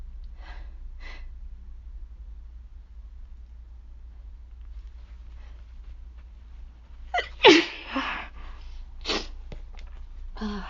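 A sick person lets out one loud, close sneeze with a sharp gasping intake before it, followed by a few breathy sniffs and snorts, after quiet breathing earlier.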